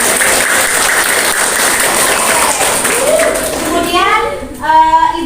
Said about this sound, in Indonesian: berarti tepuk tangan untuk kita semua.